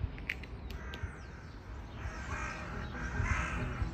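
Crows cawing near Montmartre Cemetery in Paris: several sharp caws in quick succession at the start, then fainter outdoor ambience with distant city noise, no talk.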